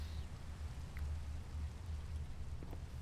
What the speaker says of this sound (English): And it is thunderstorming.